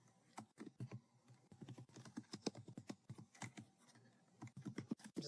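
Quiet, close-up key presses on a computer keyboard, irregular bursts of tapping with short pauses between words and no speech.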